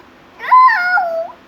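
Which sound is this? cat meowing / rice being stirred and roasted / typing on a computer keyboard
cat meowing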